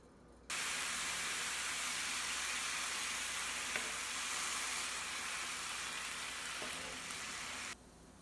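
Ground beef or turkey browns in a pot or pan over medium heat, giving a steady, close, even sizzle that starts abruptly, holds for about seven seconds, then cuts off.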